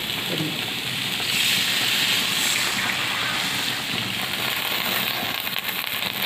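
Water poured into a pot of simmering curry with peas, a continuous loud splashing hiss with a crackling texture throughout, close and unbroken.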